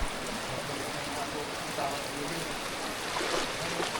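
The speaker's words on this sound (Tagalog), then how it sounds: "Lakas na ng tubig, no?" Strong stream water rushing past, a loud continuous broadband roar with faint murmuring voices beneath.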